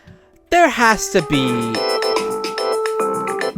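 A mobile phone ringtone, used as a wake-up alarm sound, plays a bright melodic run of ringing tones that starts suddenly and continues steadily, with a voice speaking over it.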